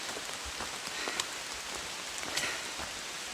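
Steady rain falls on the Appalachian Trail, a dense continuous patter with scattered sharper drops, close and even throughout, with no voices.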